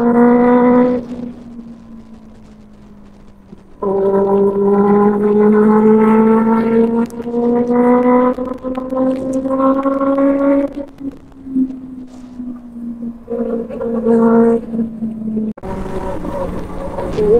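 A Benelli 600i superbike engine and exhaust on a highway, loud and close: the revs climb and fall through repeated throttle pulls, with a brief lull near the start.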